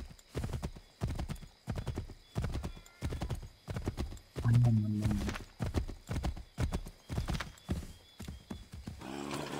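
Rhythmic hoofbeats of a horse in Assassin's Creed III clip-clop steadily at a quick gallop, close and clear, with a brief whinny partway through.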